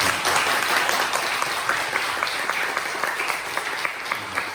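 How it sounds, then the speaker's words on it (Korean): A church congregation at a Sunday worship service applauds, many hands clapping in a dense, fairly distant wash that tapers slightly toward the end. "우리 하나님께 영광의 박수 한번 보내드리겠습니다"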